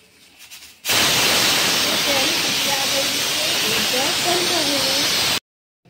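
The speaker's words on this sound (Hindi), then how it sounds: "अब मैं जा रही हूँ कुकर में सीटी लेने।" Loud, steady hiss of steam from a pressure cooker whistle, sounding continuously for several seconds and then cutting off abruptly.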